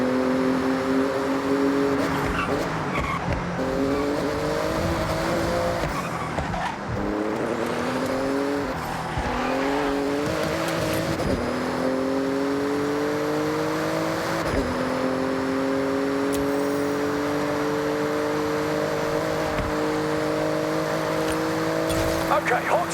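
A Porsche races through a speed zone in the Forza Horizon 6 video game, its engine revving loudly through repeated upshifts with tire squeals along the way, while a person talks over it.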